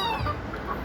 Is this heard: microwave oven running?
no